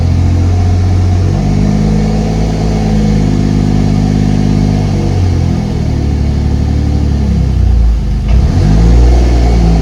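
A Mercedes W203 with a turbocharged M104 engine revs repeatedly during a clutch test after a new button clutch install, the engine rising and falling in pitch through several loud, close pulls.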